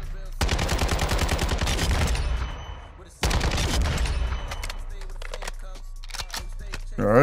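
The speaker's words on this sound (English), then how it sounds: "Let's empty out the clip." An RPK light machine gun in Modern Warfare II empties a full magazine in two long, loud, continuous bursts of rapid automatic fire, with a brief break between them and some talk near the end.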